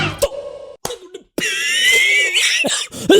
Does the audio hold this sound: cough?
yes